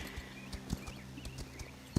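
A horse running in Equinox Homecoming, with faint, steady hoofbeats clip-clopping in a quick, even rhythm over a quiet ambient background, with no talk.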